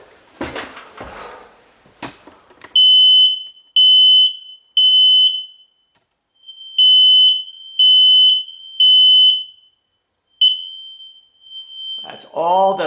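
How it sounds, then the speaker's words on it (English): A smoke alarm being tested gives loud, high electronic beeps in three-pulse bursts, repeating several times after some handling noise at the start, ending with a rustle and a voice. "press this, and it should only beep, like a regular smoke alarm"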